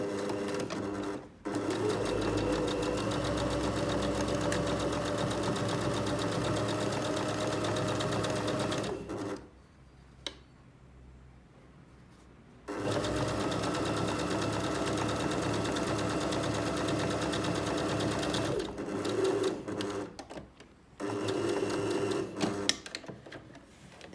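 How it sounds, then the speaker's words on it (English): A sewing machine runs in long steady bursts stitching a plain seam on fabric, with brief pauses between runs as it sews short reverse reinforcement stitches at the start and end. "So immediately I'm going to start sewing."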